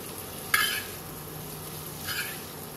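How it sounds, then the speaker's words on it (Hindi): Cabbage and bell pepper stir-fried in butter on a tawa sizzle softly and steadily, broken by two brief scraping stirs of a utensil, close and quiet, with no talk. "इतना भूनना है कि सब्जियों का क्रंच बना रहे, अच्छे से बटर में सौते हो जाएं"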